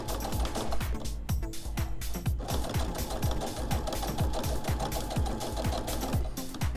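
A sewing machine stitches the fabric frame of a window-frame style pot holder, running in a steady, loud, rapid mechanical chatter throughout with no pauses.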